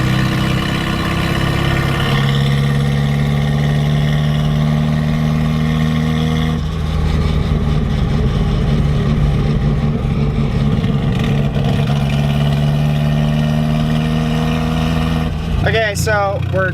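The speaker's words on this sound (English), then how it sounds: "the exhaust is really loud and I don't have my transmission boot on" A Nissan 240SX with an SR engine rumbles steadily with a loud, throaty exhaust, idling with some fluctuation and a brief rev near the end.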